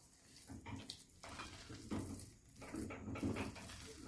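Modak filling cooked with ghee being stirred in a pan, giving soft, faint scraping and occasional clinks of a spoon against the metal in a quiet kitchen.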